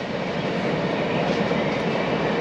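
A train rolls past close by beneath a Victorian railway viaduct beside the Bridgewater Canal, producing a loud, steady broadband rumble and rush with no break.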